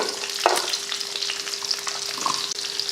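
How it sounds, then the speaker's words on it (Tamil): Pepper and cumin seeds sizzle and crackle steadily in a hot pan while being roasted and stirred, with a few scraping stir sounds, close up and without talking. "மிளகு ஒரு ஸ்பூன் சீரகம் வந்து அரை ஸ்பூன் நல்லா வறுத்ததுக்கப்புறமா"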